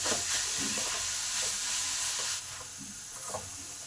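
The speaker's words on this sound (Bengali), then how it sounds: "এবার এই গুড়টাকে নারকেলের সঙ্গে ভালো করে মিশিয়ে দিই।" Grated coconut and jaggery are stirred together in a hot pan, the spatula scraping and the mixture sizzling softly, louder at first and easing off partway through, with no talking.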